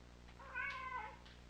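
A single cat meows in the video game Kentucky Route Zero, a short, clear, rising-and-falling cry heard close and alone over a quiet low hum.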